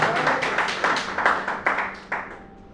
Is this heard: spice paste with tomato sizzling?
no